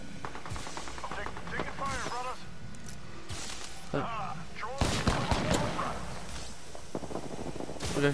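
Gunfire in the video game Apex Legends: bursts of rapid automatic shots and several single cracks, punchy and close, mixed with a player's voice talking over the action.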